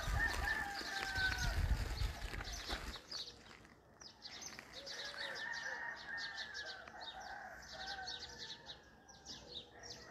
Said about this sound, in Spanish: Ahí escuchan los gallos, el cantar de los gallos aquí en nuestro Chavín